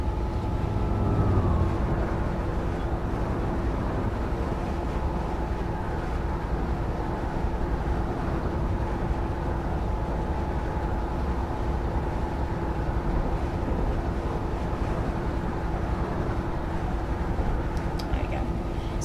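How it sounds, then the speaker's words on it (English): Container train of FSA wagons rolling past in the Train Sim World 2021 simulator, a steady low rumble with a faint tonal hum that stays even and continuous from start to finish. "We can enjoy this together, watching a container train go through"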